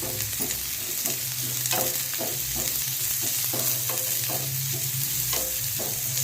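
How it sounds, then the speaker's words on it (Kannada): Finely chopped green chillies fry and get stirred in a pan for vada pav filling, a steady close sizzle broken by regular scraping strokes of the spoon, roughly twice a second, with no voices. "ಎರಡು ಸ್ಪೂನ್ ಸಣ್ಣಗೆ ಕಟ್ ಮಾಡಿರೋ ಹಸಿಮೆಣಸಿನ್ಕಾಯಿ ಹಾಕ್ತಿದ್ದು ಚೆನ್ನಾಗಿ ಮಿಕ್ಸ್ ಮಾಡ್ಕೊರಿ"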